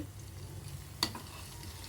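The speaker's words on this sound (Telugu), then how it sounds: "ఇదైతే చిటపెట్టలాడుతుంది, ఎందుకంటే మనం ఇవన్నీ వేసాం కాబట్టి" Homemade herbal hair oil heating in a pan, a faint low simmering crackle with one sharp pop near the middle, quiet and close.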